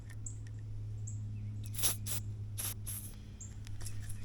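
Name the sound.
silicone spray on rubber gaskets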